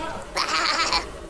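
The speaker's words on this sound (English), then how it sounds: "It sounds like a sheep." An animal bleat like a sheep or goat, one wavering cry lasting under a second, fairly close and clear against faint background noise.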